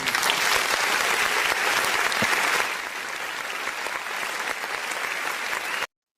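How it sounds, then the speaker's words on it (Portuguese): Studio audience applause, dense steady clapping that eases a little midway, then cuts off abruptly. "uma salva de palmas para Malu Gaspar"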